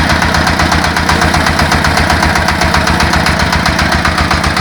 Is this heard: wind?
no